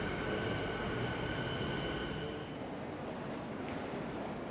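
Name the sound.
Frankston train arriving at a station platform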